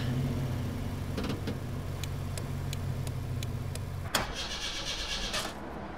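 A car engine cranks and catches in Persona 5 Royal, amid steady low engine-like rumble with sharp clicking ticks, then a bright burst as it starts and settles into a brighter hiss, no talk.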